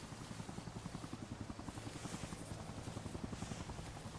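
A helicopter in a Jeep simulator video game thumps with fast, steady rotor beats over a continuous engine whine, moderately loud and unbroken, with no talk.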